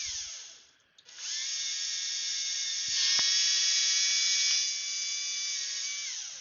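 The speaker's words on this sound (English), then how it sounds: "the other one we're gonna have to drill through" Electric drill with a 3.5 millimetre bit boring through aluminium, a steady high motor whine that spins up, holds for several seconds with a slight rise in load midway, then winds down, close and loud.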